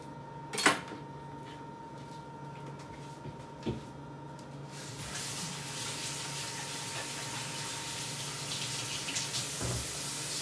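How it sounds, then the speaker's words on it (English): A knife rinsed under a running kitchen tap while prepping a sous vide pork belly meal, a steady broadband water rush starting midway and continuing to the end, with a couple of brief clinks and knocks earlier in a quiet room. "This knife washed up."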